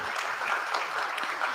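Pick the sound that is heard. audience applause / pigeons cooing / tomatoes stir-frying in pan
audience applause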